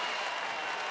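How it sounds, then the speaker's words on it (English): Applause for a catch at a Texas Rangers vs Seattle Mariners baseball game, a steady broadband wash of clapping from the stands filling the whole brief moment with no voices over it. "Derek Holland there giving him the claps after this catch."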